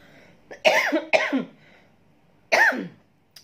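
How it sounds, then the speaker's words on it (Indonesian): Three harsh coughs, two in quick succession and one more after a short pause, close and clear with quiet in between. "terbatuk-batuk ini"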